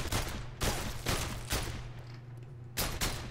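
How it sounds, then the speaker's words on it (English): Gunfire from a handgun at a target in the Soda Drinker Pro video game, several loud sharp shots spaced about a second apart over a steady low game hum. "Let's shoot the target."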